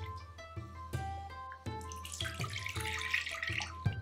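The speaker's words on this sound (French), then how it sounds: "on lave 2 fois du riz et on transfère l'eau dans un feitu." Rice being washed in water with running water from a tap, close splashing and swishing mixed with pouring and sloshing, steady and fairly loud throughout.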